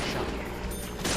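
Rapid gunfire in a video game, a dense burst of overlapping shots and mechanical clatter over about a second, close and fairly loud, with a heavier hit at the end.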